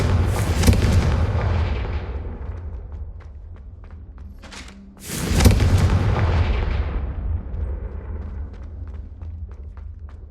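Two Confringo fire spell explosions in Hogwarts Legacy, each a heavy booming blast with a long rumbling decay, the second hitting midway, followed by scattered small crackles and pops.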